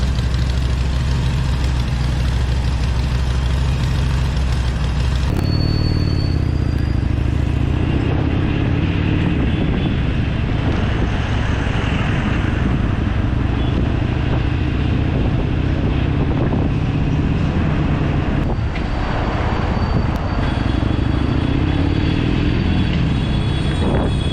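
A Harley-Davidson motorcycle engine idles while warming up outdoors before a breakfast ride. Its steady low rumble runs throughout, heavily masked by loud, constant wind buffeting on the microphone.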